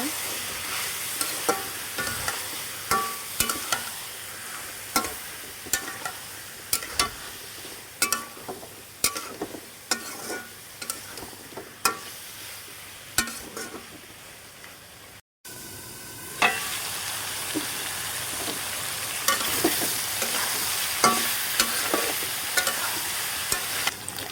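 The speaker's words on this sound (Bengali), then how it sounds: "ডাঁটা আর আলুগুলো আমি ভালোভাবে কষিয়ে নেব।" Vegetable stalks and potatoes frying with spices in a pan, a steady sizzle punctuated by repeated sharp scrapes and clanks of a stirring spoon, with a brief dropout midway before the sizzling resumes, no voices.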